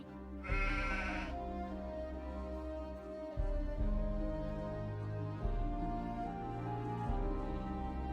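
Sheep bleating in the video game Gothic II Archolos: a loud, close bleat near the start, followed by a steady stretch of game music with repeating low tones.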